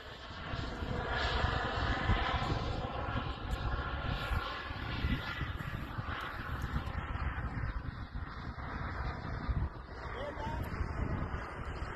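Turbine-powered aircraft on its landing approach with gear down, a steady roaring engine drone with wind noise throughout, while people talk over it.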